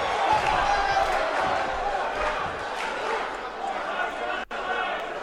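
A wrestling crowd fills a Los Angeles ballroom at an awards event, a dense and steady roar of cheering and chatter that stays loud throughout, with a commentator talking over it.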